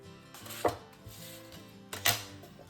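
A blade cuts straight through cardboard while making a box, with two sharp, close cuts or snaps standing out over quiet handling noises, and no talking.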